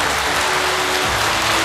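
A hall audience breaks into dense, steady applause for a kidney donor mother at a World Kidney Day event, a loud continuous wash of many hands clapping without pause.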